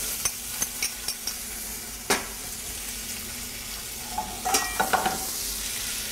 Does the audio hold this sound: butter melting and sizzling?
yes